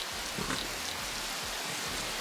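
Light rain falls outdoors on a muddy, rocky walking path, a steady soft hiss of drops with faint scattered patters and no talking.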